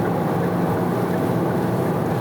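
A Kia Mohave diesel engine labors while accelerating uphill, a continuous low droning hum with road and cabin rumble, steady and fairly loud throughout, heard from inside the vehicle with no talk.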